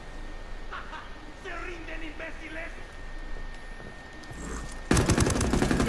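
Gunfire in Ghost Recon Wildlands, a rapid burst of automatic shots breaking out loudly near the end after quieter moments with voices talking over faint background fire.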